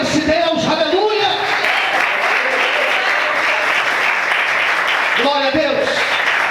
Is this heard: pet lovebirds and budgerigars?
no